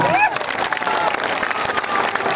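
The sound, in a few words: audience clapping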